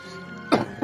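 A character in the video game Digimon Survive gives two short, close coughs, the second following quickly after the first.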